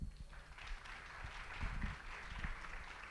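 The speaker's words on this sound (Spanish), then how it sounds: "Démosle un fuerte aplauso." Audience applause at a medical lecture on tuberculosis, a steady wash of clapping from a crowd that holds moderately loud for about three seconds with no voices over it.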